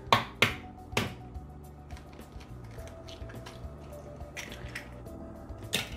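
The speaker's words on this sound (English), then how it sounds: "And then crack your egg." Egg cracked into cookie dough for stained glass cookies, a few sharp close taps and cracks at the start followed by soft wet squishing and dripping, ending with another crisp tap, no talk.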